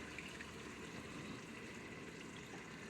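Cold pasta sauce pours into a cooking pot as a steady, faint liquid gush that continues without break.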